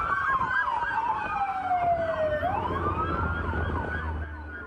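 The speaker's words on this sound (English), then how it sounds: "The sound of sirens." A wailing emergency vehicle siren in Los Angeles during a wildfire sweeps up and down loudly and continuously, with a low engine rumble underneath, no talking.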